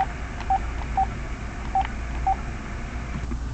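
Telephone keypad tones beep four times in an uneven rhythm as numbers are dialed, close and clear over a low steady hum, used as a comedic effect.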